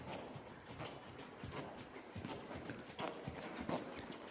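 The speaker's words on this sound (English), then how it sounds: "that was Dino, the youngest horse in our facility right now" Hooves of a young off-track Thoroughbred clip-clop steadily at a walk, close by, with a low background murmur and no clear talk.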